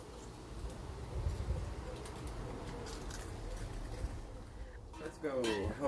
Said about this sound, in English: I can hear a pigeon.